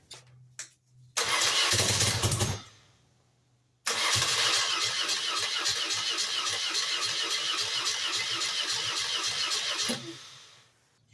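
BMW R80 Paris Dakar motorcycle in cold weather with dirty carburettors, cranking hard in two long starter bursts that sputter and catch briefly between short silences, loud and close.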